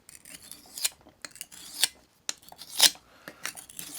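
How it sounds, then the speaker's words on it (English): A knife edge scrapes repeatedly across a piece of granite in short, harsh strokes, close up, with a few louder grinding swipes between quieter rasps. "I'm dulling out that knife."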